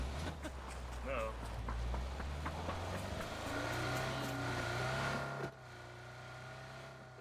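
A Dacia car driving in the PUBG video game, its engine humming steadily under frequent voices and gunfire-like clicks before the motor sound drops away sharply near the end.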